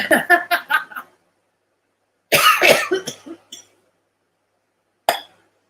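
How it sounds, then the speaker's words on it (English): Several short, sharp coughs come in quick bursts, then another cluster after a pause, and finally a single cough, close and dry. "next you can make fun of my coughing"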